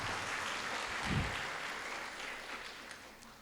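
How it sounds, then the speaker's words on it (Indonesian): Faint, distant applause at an Akhirussanah school graduation ceremony for SMP IT Ulil Albab Karanganyar, a soft continuous patter of many hands with one low thump partway through, fading slightly toward the end. "Tepuk tangan untuk SMP IT Ulil Albab Kabupaten Karanganyar."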